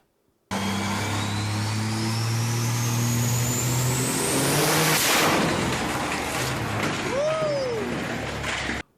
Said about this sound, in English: You can start the engine and you can step on the gas. But if your car's still in neutral, it's going to make a lot of noise